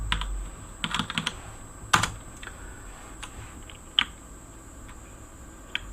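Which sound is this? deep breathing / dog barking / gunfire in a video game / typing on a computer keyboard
typing on a computer keyboard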